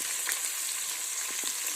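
Curry leaves frying in oil while sambar is prepared: a bright, steady close sizzle with a few soft stirring taps and no talking.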